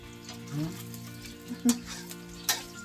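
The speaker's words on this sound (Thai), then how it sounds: "เราชอบดูลีลาเขานะในการทอด" Fried eggs sizzle steadily in a hot pan, a continuous crackling hiss broken by a few short clatters and scrapes, with faint background murmur.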